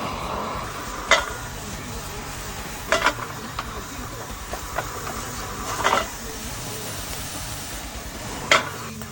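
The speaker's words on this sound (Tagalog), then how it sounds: "Lagay natin tong mushroom sa pinaglutuan ng steak." Mushrooms sizzling in the pan a buttered striploin steak was cooked in, with a steady frying hiss broken by a few sharp scrapes of stirring at intervals; no one speaks.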